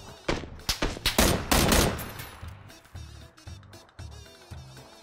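Gunfire in PUBG on the Miramar desert map, played on Xbox One: a fast burst of loud automatic shots, followed by scattered, quieter single shots and short volleys, with no voices.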